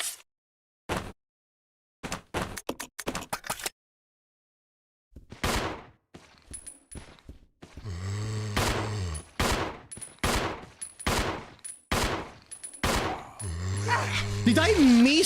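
Handgun fire in the video game Resident Evil Zero: sharp, punchy shots in quick bursts and spaced volleys, loud and close, with growling and other game sounds between them.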